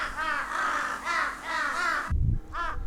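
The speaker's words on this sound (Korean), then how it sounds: "숲속에 까마귀 떼가 몰려든다." A flock of crows caws in a winter forest, several harsh, loud calls in a repeating rhythm with short gaps between them, followed by a brief low thud.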